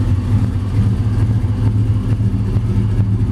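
A 1955 Chevy Bel Air two-door post car with a ZZ4 V8, body-off restoration, idles with a steady, loud low rumble and faint rhythmic pulsing, heard close by with no talking.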